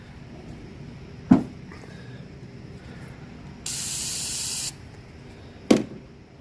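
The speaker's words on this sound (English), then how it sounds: "you can go ahead and get a rag or some brake cleaner" Brake cleaner sprays in one steady, loud hiss lasting about a second, used while cleaning metal shavings off a truck's cab during a clearance light install; two sharp knocks come before and after it.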